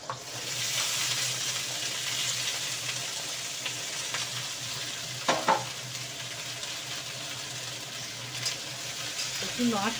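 Dried red chillies and Bengali five-spice (panch phoron) fry in hot oil with a continuous crackling sizzle, broken by occasional spatula scrapes as the spices are stirred, and a voice speaks faintly now and then.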